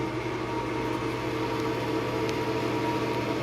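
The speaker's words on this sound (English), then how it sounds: "I forgot I was going to actually film this random exhaust fan here" A Broan heat lamp exhaust fan runs with a steady, loud whirring hum and a broad airy rush that never changes over the whole stretch.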